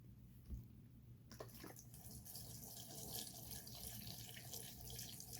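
Water pours and trickles into a pebble humidity tray of rocks and smaller stones for a few seconds, a faint and steady splashing flow with no voices.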